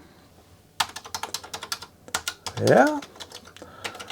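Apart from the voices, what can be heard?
typing on a Commodore 64 keyboard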